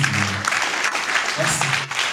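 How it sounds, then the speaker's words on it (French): An audience applauds in a hall, a dense, steady wash of clapping from many hands that fills the whole moment, with a few voices faintly mixed in. "Est-ce que nous pouvons applaudir pour Péchanga aussi?"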